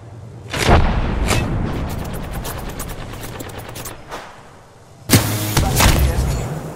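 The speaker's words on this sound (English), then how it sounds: "Taking fire!" Gunfire in the Apex Legends battle royale game, with loud bursts of shots, a sustained rattle, and a sharp renewed volley near the end.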